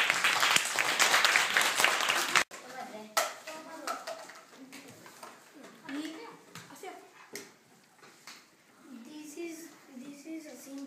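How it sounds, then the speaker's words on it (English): A group claps together in a room, a loud burst of applause for a couple of seconds before it stops, followed by sparse taps, voices and children talking. "Let's clap them."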